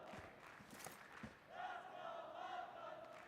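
An esports arena crowd at the PUBG Mobile World Cup roars and cheers for the hometown Falcons squad, a sustained distant swell of voices rising after a few sharp bursts.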